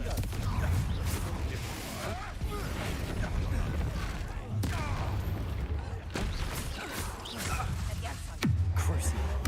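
A Confringo blasting spell is cast during Hogwarts Legacy combat, with dense, continuous rumbling and clattering game effects and a sharp, heavy burst near the end.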